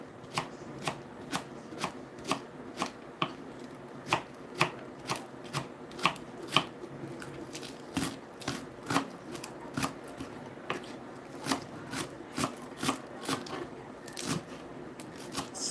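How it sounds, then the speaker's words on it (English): Ingredients are chopped into small pieces on a board in a home kitchen, a steady series of sharp knife taps, close and fairly even in rhythm, running for several seconds with no talking. "So you get these things cut small as you can."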